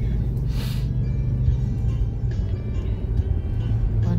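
A passing vehicle with a loud exhaust on a road near Kalawan Church heading to Calamba, Laguna, gives a steady low rumble that swells briefly with a hiss, with no talk.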